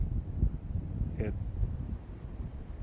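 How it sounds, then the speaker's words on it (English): Steady low wind rumble buffets the microphone throughout, with gusty swells and a faint voice briefly in the middle. "it's a super windy day"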